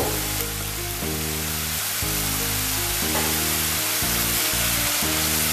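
Onion, garlic and ginger sauté in a pan with a steady, close broadband sizzle, while sustained tonal notes that sound like background music run underneath in shifting blocks.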